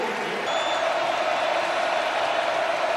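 A Cincinnati football crowd in a stadium gives a sustained roar of cheering and applause, steady and broad without a clear peak.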